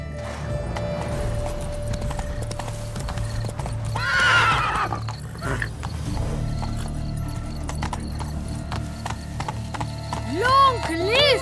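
A horse gallops in The Witcher 3 video game with rhythmic hoofbeats. The horse whinnies mid-clip and again near the end, under game dialogue and background music.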